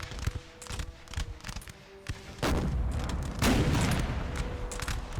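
Musket volleys and artillery fire from a Napoleon: Total War battle with Prussian line infantry, sharp crackling shots scattered throughout with heavier booming bursts swelling in the second half, dense and continuous.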